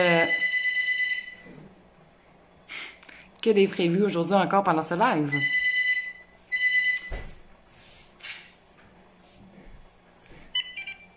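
A telephone rings with repeated electronic beeping bursts in a home kitchen, loud and close, alternating with someone talking.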